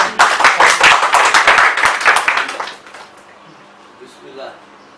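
Audience applause at a gathering for recitation of Sufi poetry, a burst of dense, close clapping for about three seconds that then fades out, followed by quiet room noise and a faint voice.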